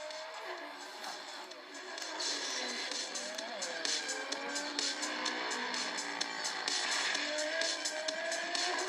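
Race cars in the Asphalt 7 mobile racing game sound off as synthetic engine whines with shifting pitch sweeps and brief tire squeals, moderately quiet throughout.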